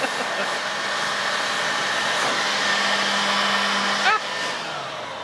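A 3-in-1 battery leaf blower runs indoors with a steady, loud whooshing motor whine that holds throughout, briefly surging near the end.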